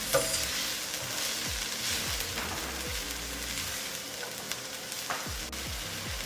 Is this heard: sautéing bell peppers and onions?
yes